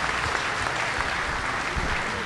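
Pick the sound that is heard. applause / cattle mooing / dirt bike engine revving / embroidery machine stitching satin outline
applause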